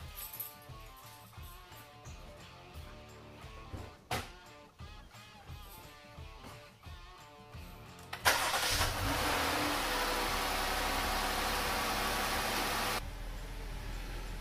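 A 2020 Jeep Cherokee KL cranks and fires, jumping into a loud steady idle that holds for several seconds, then settles lower; quieter handling noises come before the start.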